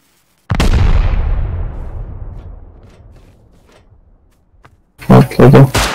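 A single loud explosion in the survival game Rust, a heavy close boom that rumbles and fades over about three seconds, followed by a voice speaking.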